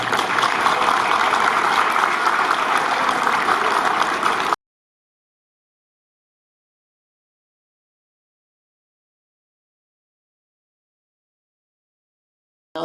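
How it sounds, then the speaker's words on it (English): Applause from an audience honoring a board at a memorial walkway dedication ceremony in Havasu, steady and fairly loud for about four and a half seconds, then cutting to silence. "So I want to applaud my board."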